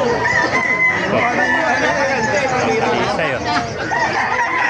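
Roosters crow and chickens cluck at a busy open-air market in Bocaue, loud and overlapping with constant crowd chatter, and a voice speaks briefly nearby.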